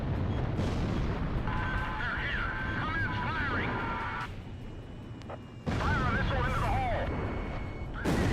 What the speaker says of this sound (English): Missile into the hole.